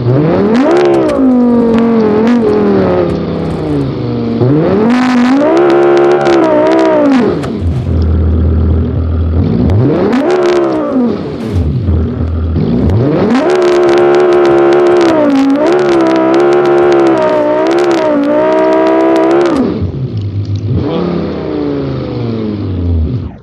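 Rally car engine in the BeamNG driving game, revving hard and surging repeatedly while driving through mud, loud and close with rising and falling pitch throughout.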